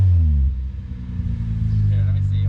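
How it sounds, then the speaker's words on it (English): A 4th-generation Acura TL with an Endless RPM exhaust and J-pipe idles with a deep rumble, then gets a brief rev that swells and settles, with people talking nearby. "Give it a little rev"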